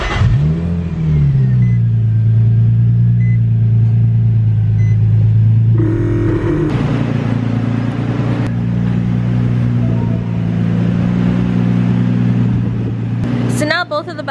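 Car raised on jack stands in the rear with the engine revving and the back wheels spinning freely, a loud steady rumbling drone that rises and settles in pitch, with someone talking over it.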